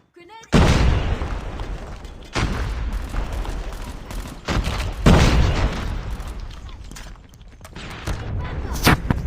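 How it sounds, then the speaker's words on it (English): Gunfire and grenade blasts in an online shooter game, with several heavy booming explosions and bursts of shots spread across the stretch, loud and close, while players talk over the action. "Grenade out."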